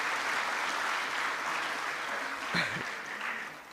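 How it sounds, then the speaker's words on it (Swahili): Sustained applause from a large audience at a government ceremony honouring the President, a dense, even clapping that carries on throughout, with a brief voice surfacing near the end. "Naomba tumpigie makofi mengi Mheshimiwa Rais."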